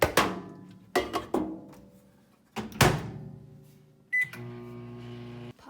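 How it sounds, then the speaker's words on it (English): A kitchen microwave oven steaming vegetables: several loud clunks of the door and handling, a short beep, then the low, steady hum of the oven running. "then we're gonna pop it in the microwave for 5 minutes, and then my veggies are gonna be steamed"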